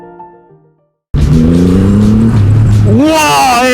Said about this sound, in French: j'ai mis un tout petit coup de gaz